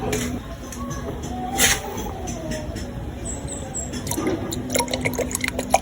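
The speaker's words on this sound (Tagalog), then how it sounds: "So magdadagdag na lang tayo ng coolant." Coolant is poured into the reservoir of a Yamaha Sniper 150 motorcycle, a close trickling, gurgling liquid sound with small drips and faint clicks toward the end.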